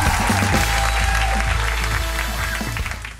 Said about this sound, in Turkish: Efendim, bir alkışlayın kendinizi.